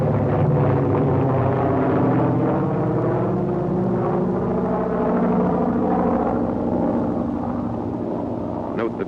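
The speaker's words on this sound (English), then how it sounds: "Note the takeoff of the PBY before the glider." A PBY flying boat takes off while towing a glider, its propeller engines producing a loud, sustained droning roar that stays steady throughout, without voices.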